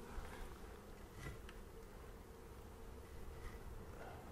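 Honey bees drone at a backyard hive in December, a dense continuous buzz from many insects, steady and close, with no voices.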